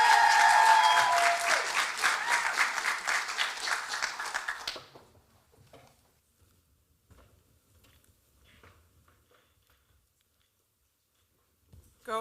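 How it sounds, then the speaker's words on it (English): A conference audience applauds a speaker at a showcase event with loud, dense clapping that fades out after about five seconds, leaving near silence with a few faint rustles and a brief sound at the very end. "Please join me in giving a round of applause"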